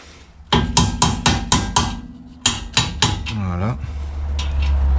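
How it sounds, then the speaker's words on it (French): A hammer taps a socket against a car wheel bearing on a turbocharged Golf MK2, with a rapid run of sharp metallic strikes, a short pause, a few more hits and a ringing clatter, then low background rumble. "un marteau, et puis on va tapoter le roulement"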